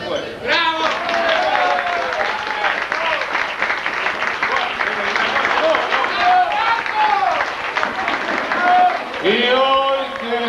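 A tango concert audience at Berlín Café in Rosario claps steadily and loudly for the band, the applause dense and sustained for about ten seconds, with voices and calls rising through it.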